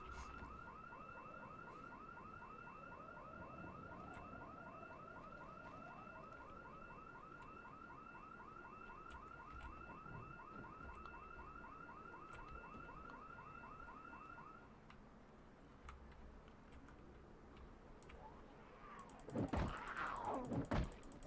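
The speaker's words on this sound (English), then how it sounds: "I can hear the alarm going off as well." A car alarm in the Project Zomboid video game blares a rapid, repeating electronic warble at a steady pitch for about fifteen seconds, then stops, followed by faint rustling and a louder clatter near the end.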